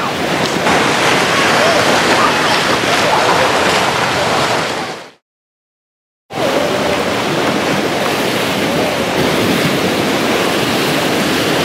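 Loud, steady rush of sea waves and surf at close range, broken by a sudden stretch of silence before the roar resumes.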